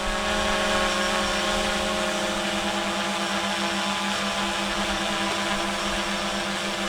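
DJI Phantom 4 quadcopter climbing straight up over a lake, a loud, steady high-pitched propeller whine and buzz, close and unbroken throughout.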